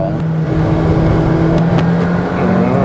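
A McLaren Elva hypercar runs on track, its engine droning loud and steady with a sustained tonal note, and faint shift blips come through briefly along the way.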